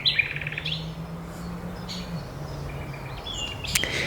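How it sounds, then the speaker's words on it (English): Birds chirp and tweet in short, bright bursts, some close and some farther off, over a low steady hum of background noise. "The sing of the birds"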